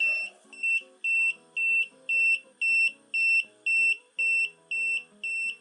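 A Tooltop X6 clamp meter in non-contact voltage detection mode gives a steady series of short, high-pitched beeps, about two per second, each ringing cleanly, with a faint murmur beneath.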